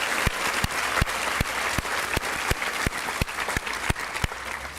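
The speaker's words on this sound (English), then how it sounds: "We can never clap enough on graduation day for them." Sustained applause from a crowd at Pelham Memorial High School's class of 2025 graduation ceremony, a thick continuous patter of many hands with a nearby clapper striking loud, evenly spaced claps on top.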